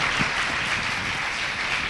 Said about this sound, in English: Please, let's give one more round to our panel.